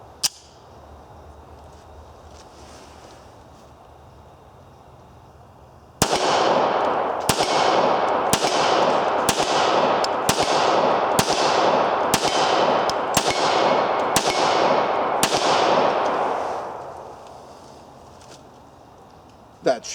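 About a dozen evenly spaced pistol shots from a .40 caliber Browning Hi Power, loud and close, each crack ringing out over steady background noise, followed by a pause and one final shot.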